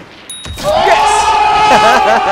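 A single sharp sniper rifle shot rings out in a video game, followed at once by a player's excited voice talking over the rest of the moment.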